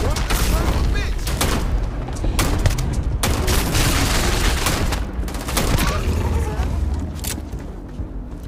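Gunfire in the video game Starfield, with dense rapid shots and booms filling the scene continuously while voices speak over the firefight.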